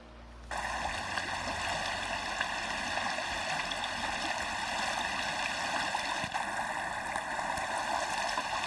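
Water rushes steadily as someone wades across a mountain stream on a hiking trail in Poland, the flow starting abruptly and continuing loud and constant.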